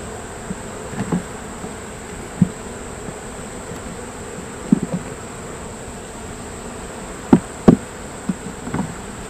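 Honeybees hum softly around an open hive frame in a bee yard, with scattered light taps and knocks from the woodenware over a steady high drone.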